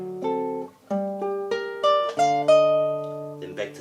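A classical guitar plays a short passage from Albéniz's Mallorca Op. 202, with clear plucked notes and chords that ring out in a halting, tutorial pace, intimate and close.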